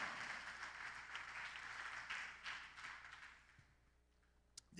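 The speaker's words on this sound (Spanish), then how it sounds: "Dele fuerte palmas al Señor." A church congregation claps for the Lord during a sermon, a dense wash of applause that holds steady, then thins and fades toward the end with a few stray claps.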